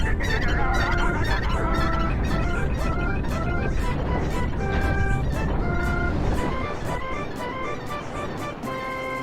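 A chicken squawks repeatedly in the video game Twilight Princess, its harsh calls mixed into loud, continuous game music that plays throughout.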